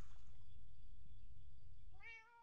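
A single cat meows in the Minecraft video game, one clear rising-falling meow near the end over a low steady background hum, with no talk.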